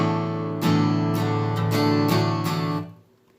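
An acoustic guitar strums four basic chords, one after another, with each strum ringing out clearly. The playing is close and moderately loud, and the final chord decays into quiet.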